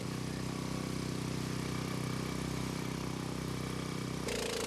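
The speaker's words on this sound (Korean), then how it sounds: "전기도 들어오지 않는 골목길에 물을 빼는 모터 소리만이 쉼없이 울리고 있다." A water pump motor runs without pause, draining a flooded alley after record torrential rain; a steady, loud mechanical drone with even rhythm fills the whole stretch, shifting slightly in tone near the end, with no voices.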